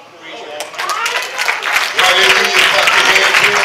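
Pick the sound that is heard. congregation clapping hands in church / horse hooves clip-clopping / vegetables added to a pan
congregation clapping hands in church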